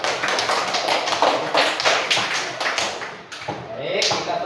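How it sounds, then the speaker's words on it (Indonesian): Classroom applause for a student group, many hands clapping in a dense, steady patter up close before tapering and briefly picking up again near the end. "Ini tepuk tangan untuk kelompok 2"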